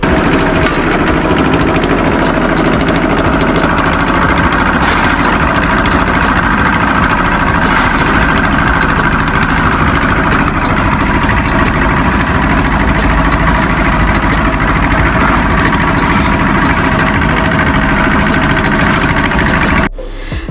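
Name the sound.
diesel concrete mixer engine running loudly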